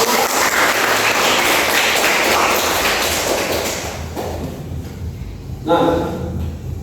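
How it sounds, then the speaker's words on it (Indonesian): A classroom of students applauds at an Indonesian school lesson, a dense burst of clapping that runs steadily for several seconds, then thins and fades, with a brief louder flare near the end. "kasih tepuk tangan dulu untuk"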